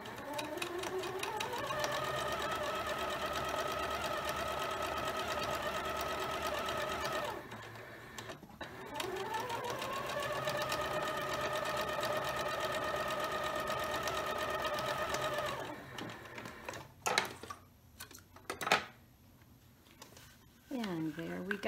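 A sewing machine stitches a seam on a string-pieced tote bag, its motor ramping up into a fast steady whir, stopping, then running a second long stretch before handling clicks and rustles near the end.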